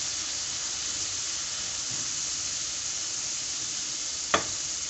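Green chillies cook in oil with lemon juice over a low flame, giving a soft, even sizzle with one brief sharp tick near the end and no talk.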